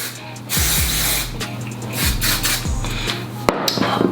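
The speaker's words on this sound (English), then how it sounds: "I just take shine spray and I spray it all over the braid" Shine spray from an aerosol can hisses over a long braided ponytail on natural hair in several bursts, close and clear, with faint handling clicks between sprays.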